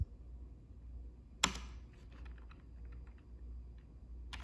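Typing on a Logitech K480 multi-device Bluetooth keyboard: one sharp, close key click followed by a few faint, scattered keystrokes over a low steady hum, with no talking.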